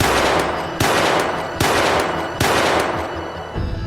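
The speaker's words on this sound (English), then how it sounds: "Just then, I came out of nowhere and shot Michael 4 times" Four loud gunshots fired at an even pace, about a second apart, each a sharp crack followed by a short decaying tail, with no talking.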